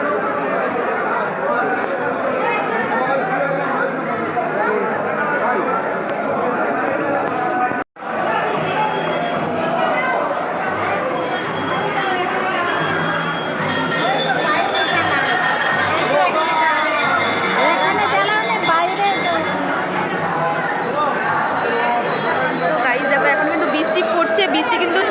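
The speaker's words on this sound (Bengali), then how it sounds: "মোটামুটি একটা ভিড় আছে" Crowd chatter at the Shravani fair at Tarakeswar temple on a rainy Monday: a continuous dense murmur of many voices close around, with a brief dropout partway through and someone speaking over it.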